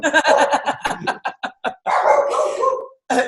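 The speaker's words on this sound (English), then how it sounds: "There go my dogs." Several dogs bark in rapid, sharp bursts, loud and fairly close, with a longer yelping howl near the end before a final bark.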